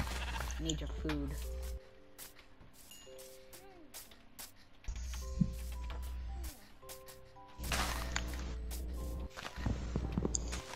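Sheep in the video game Minecraft bleat several times in short wavering calls, mixed with game clicks and footsteps while a person talks over them.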